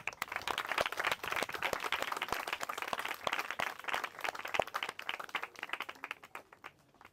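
A room of children and adults clapping to welcome a presentation team at a school event, a quiet, fairly brief round of scattered hand claps that tapers toward the end, with no talk over it.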